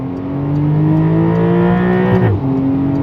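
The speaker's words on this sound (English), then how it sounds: "Oh yeah, little bump there off the rev limiter." Porsche 992 GTS engine revving hard up to the rev limiter, a loud, close, rising howl that bounces briefly off the limiter and then drops.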